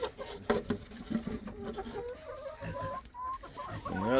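Farm chickens cluck nearby in a quiet snowy setting, with short irregular bursts of clucking and a rising warble near the end, fairly faint overall.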